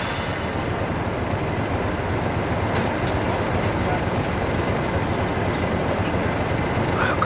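Steady rumbling and rattling of a moving heritage train on the Keighley & Worth Valley Railway fills the clip, heard from inside, with a few faint clicks over the constant roar.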